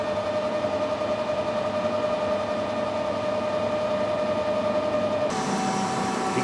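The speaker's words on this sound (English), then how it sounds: "You can hear the lathe working" A metal lathe turning a workpiece at 200 RPM runs with a steady, loud mechanical drone and a constant whine, unbroken throughout and with a slight change in tone near the end.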